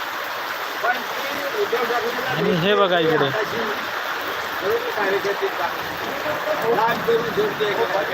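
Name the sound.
heavy rain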